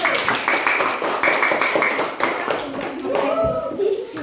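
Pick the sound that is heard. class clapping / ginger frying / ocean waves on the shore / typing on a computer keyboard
class clapping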